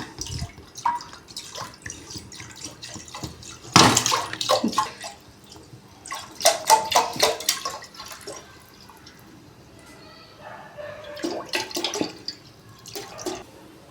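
Milk poured into a pressure cooker already holding a little water, with splashing and trickling that swells and fades in bursts, close and fairly loud, no voices.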